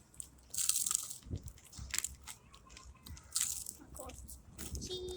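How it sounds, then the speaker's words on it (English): Crunchy Chester's fried chicken dipped in ranch, bitten and chewed up close in several sharp crunching bites spread across a few seconds, with quieter chewing between them. "No, they got a crunch factor."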